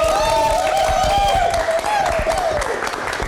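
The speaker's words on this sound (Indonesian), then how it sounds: "Tepuk tangan dulu untuk Oke." A late-night live TV studio audience applauds, dense clapping under a sustained bright musical tone or whistle, loud and continuous with scattered crowd noise.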